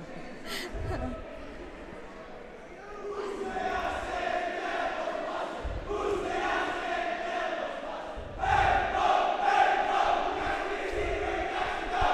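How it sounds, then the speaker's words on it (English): High school senior volleyball players shout a team cheer in a gym before a Dig Pink game against the juniors, group voices rising in bursts over a murmuring crowd, with talk close by. "That was a cute little cheer from the seniors."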